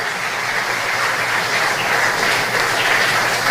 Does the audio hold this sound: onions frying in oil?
no